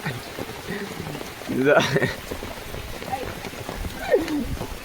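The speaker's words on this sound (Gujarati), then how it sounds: "જો તો વરસાદ ફૂલ આવી ગયો છે" Heavy rain comes down in a steady, dense hiss of drops on surfaces, with people talking over it nearby.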